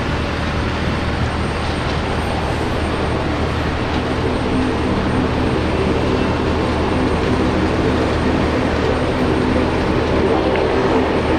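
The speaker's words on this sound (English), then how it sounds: "Always a pleasure to spot a Fokker." A Fokker airliner at Brisbane International Airport gives a loud, steady, unbroken engine roar that holds for several seconds, with no talking over it.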